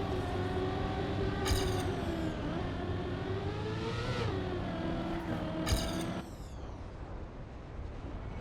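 Racing car engine in Trackmania, a steady droning whine that rises and falls in pitch with two brief bursts of sharper gear-change noise, then drops to a lower, thinner hum near the end.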